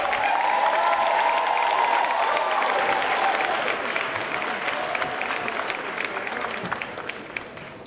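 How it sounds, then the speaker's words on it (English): Audience applause for a vocalist and band at a Martin Luther King Jr. celebration event, loud sustained clapping from a large crowd that gradually thins and fades toward the end. "please give a round of applause for our vocalist"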